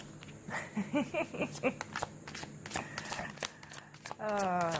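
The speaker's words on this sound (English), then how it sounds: "Can I shuffle?" Tarot cards are riffled and shuffled close by in quick bursts, with a voice humming or speaking softly over the shuffling.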